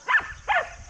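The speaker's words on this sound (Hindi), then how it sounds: "यहाँ जो है ये लोग खेल रहे हैं, भौंक रहे हैं" Dogs bark playfully at a Shiva temple, two sharp barks roughly half a second apart, close and fairly loud over quiet ambience.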